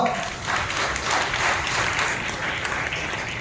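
Many hands clap at once as a church congregation applauds during a Christmas sermon, a continuous, fairly soft wash of clapping with no talk over it.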